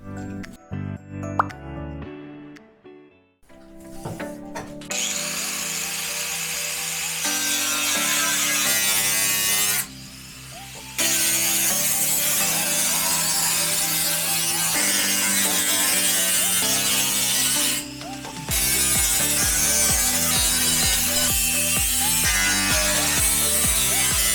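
A steel plate being cut for a homemade cycle fender, giving a loud, harsh, continuous cutting roar that runs almost without a break, dropping out briefly twice, after a few scattered knocks at the start.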